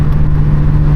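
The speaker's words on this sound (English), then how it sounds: "This car sounds amazing, drives amazing, it handles amazing." Loud, steady engine drone with a strong low hum, heard from inside a running car on a rainy night for a brief moment.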